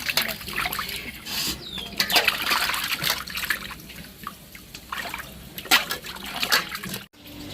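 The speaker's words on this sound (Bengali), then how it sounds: "মাছগুলো ভালো করে ধুয়ে নিছি।" Cut fish being washed by hand in water, with close splashing, trickling and dripping in uneven bursts, plus occasional faint background sounds.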